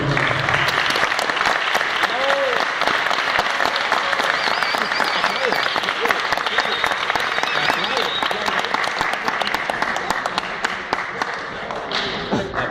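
Sustained applause from a conference audience rolls on steadily and fairly loud, with scattered sharper claps and some voices mixed in, thinning slightly toward the end.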